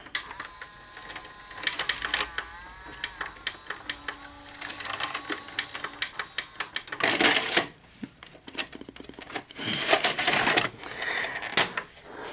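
Daewoo VHS VCR with a stuck tape, its mechanism whirring and clicking in repeated mechanical bursts and clacks, with louder grinding stretches as it chews the tape close up.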